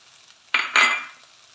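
Ghee goes onto poha in a pan, a short burst of sizzling with a faint scrape, two quick bright hisses that fade within a second, close and otherwise quiet.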